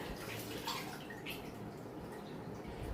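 Buttermilk poured over chicken pieces for a KFC-style marinade, giving a steady, continuous liquid splash close by with faint dripping, no talk.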